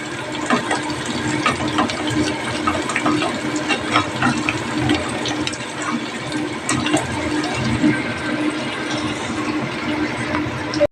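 Water pours steadily into a pan of Bengali fish curry cooked in mustard oil with salt and turmeric, a continuous loud gushing and splashing that runs without a break.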